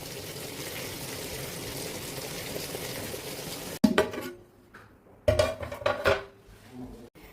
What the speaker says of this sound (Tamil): தண்ணி நல்லா கொதி வருது பார்த்தீங்களா